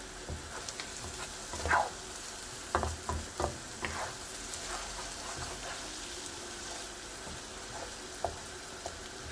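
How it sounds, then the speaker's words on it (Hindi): Food is stirred and mixed in a sizzling frying pan for dal tikki, with steady frying hiss and several scraping spatula strokes clustered early and mid-way, close and moderately quiet, no voices. "अच्छी तरह से मिक्स करेंगे।"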